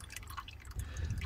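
Engine oil drains from a VW T4 1.9TD into a drain pan, a soft steady trickle and patter that is faint and close, with no voices.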